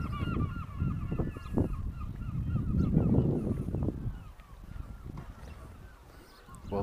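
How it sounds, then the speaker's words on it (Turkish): Gulls call repeatedly at a fishing harbour in Dunbar, Scotland, harsh squawking cries overlapping at close to mid distance, with calls thinning out toward the end. "Martı sesleri."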